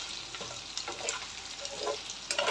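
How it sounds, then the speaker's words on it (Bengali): Boiled potatoes fry in hot oil with a steady, crackling sizzle, joined by small pops and light stirring sounds close by and no voices. "এখন এটা আমি তেলে ফ্রাই করতেছি।"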